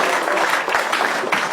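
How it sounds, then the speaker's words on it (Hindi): An audience claps in a brief, dense burst of applause, close and loud for about a second and a half. "एक बार यार इनकी ऑनेस्टी के लिए तो बनता तालियां है। बजाइए।"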